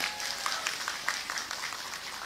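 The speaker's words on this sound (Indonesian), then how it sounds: "Tepuk tangan untuk muslimat." Applause for the women of a Muslimat gathering at an evening religious event in Probolinggo, a faint and steady patter of many clapping hands heard from across a hall.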